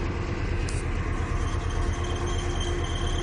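Steady rumble and rolling rail noise heard from inside a moving BNSF train, a continuous close drone with a faint high squeal of wheels on the track.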